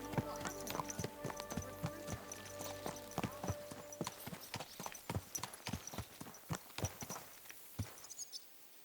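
Horse hooves clip-clopping in Kingdom Come: Deliverance II, a steady close rhythm of crisp hoof strikes that speeds slightly and thins toward the end, heard alone without talk.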